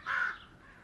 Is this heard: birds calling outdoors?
yes